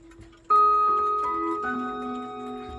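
Metal chime rods in a wooden chime block mounted sideways with two screws. A close strike rings out with bright sustained tones, a second strike follows, and the tones slowly decay.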